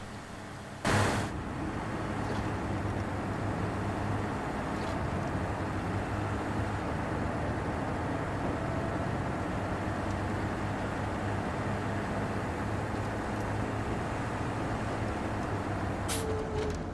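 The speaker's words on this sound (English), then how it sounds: "I heard this is a good vanilla truck" A vanilla truck drives in SnowRunner, its steady low engine drone running throughout at moderate level, with a brief sharp hiss near the start and another near the end.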